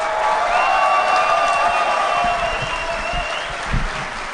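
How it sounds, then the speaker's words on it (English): Conference audience at a DEF CON hacking convention applauds steadily, a dense sustained clapping with some cheering and crowd noise that gradually thins toward the end. "Round of applause."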